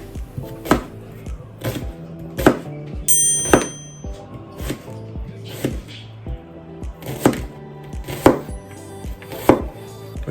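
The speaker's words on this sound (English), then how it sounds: "I forgot how to chop up an onion." A knife chops through a peeled onion on a board in a home kitchen, making sharp, close thunks in uneven bursts with pauses between them, and nobody speaks.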